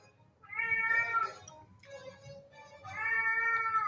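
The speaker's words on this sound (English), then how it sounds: "He'll either meow for no reason, or he'll meow for either me, for mom, or for food." A house cat meows insistently up close, three drawn-out cries with short pauses between them, against a quiet indoor background.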